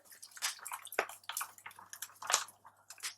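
Brewing sugar stirred into boiling water with a spoon: quiet, close wet swishing and scraping in irregular strokes, faint throughout with no talk.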